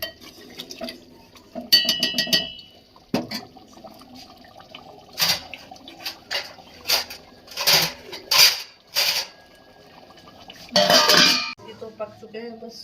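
Chole being stirred in a pot with crushed kasuri methi, scattered clinks and scraping knocks of a utensil against the metal pot in irregular bursts, close and fairly loud, with no words spoken.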